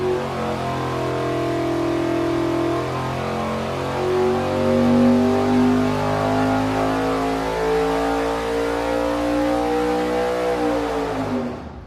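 A 582 cubic-inch big block Chevy V8 fitted with a 1250 CFM carburetor roars loudly and steadily on a dyno, pitch climbing slowly through a long pull before cutting off at the end.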